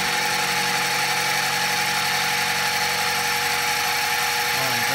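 A mini-mill shell milling a Delrin workpiece with the spindle sped up, giving a loud, constant high motor whine and cutting drone that stays even throughout, with no voices.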